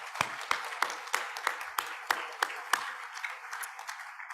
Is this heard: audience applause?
yes